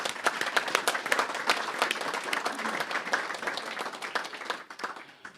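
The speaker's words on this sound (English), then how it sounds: "I think a round of applause would be appropriate." Council members at a Herefordshire Council meeting clap to welcome a new colleague, a smaller group whose individual claps are distinct and fairly close, tapering off near the end.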